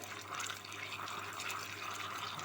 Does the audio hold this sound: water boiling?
yes